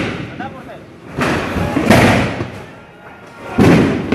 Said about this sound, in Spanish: Están reventando tiros.